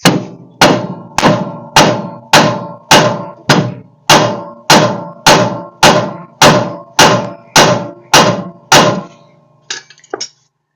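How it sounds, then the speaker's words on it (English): A hammer strikes the spindle of a 1966 Dodge Charger about fifteen times in an even, ringing metallic rhythm, loud and close, followed by a few light clinks. "Let me hit the spindle first and just see if it'll break loose."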